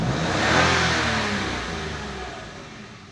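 A car engine runs right after a battery change with an unsteady idle, its RPM rising and sagging in a smooth swelling then fading drone, close and fairly loud.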